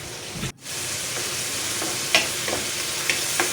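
Colorful vegetables stir-fry in oyster sauce in a pan, with a steady loud sizzle and a few sharp scrapes and clicks from a utensil stirring them.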